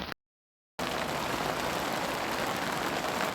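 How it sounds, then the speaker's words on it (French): Steady rain pours onto a tent at a displacement camp in Gaza, a dense continuous patter that follows a brief silent gap at the start, close and even in loudness throughout. "La pluie s'abat sur la tente de Sama"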